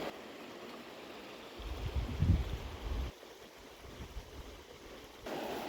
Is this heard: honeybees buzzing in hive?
no